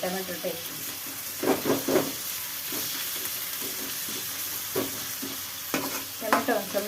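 Chopped tomatoes frying in oil in a pan, with a soft steady sizzle and bursts of stirring scrapes recurring throughout, close and moderately loud, with no talking.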